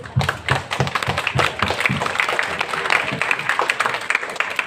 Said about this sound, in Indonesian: beri aplaus untuk panitia